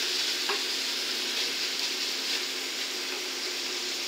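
Pieces of beef cheek searing in a pot for a ragout, a loud, dense, steady sizzle with faint occasional stirring clinks.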